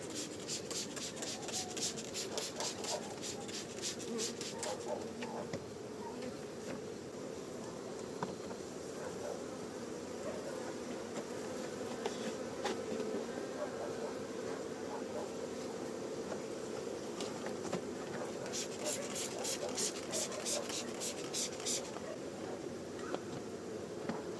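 Honey bees buzz around beehives at an apiary during a summer inspection, a faint steady hum with light scraping and handling noises close by and no talk.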